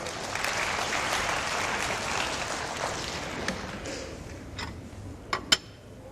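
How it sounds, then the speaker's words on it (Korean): An audience at a lecture claps for the people who saw Avatar four times, a moderately loud wash of applause that thins and fades toward the end, leaving a few isolated claps. "우리 4번 보신 분한테 박수 한번 주세요"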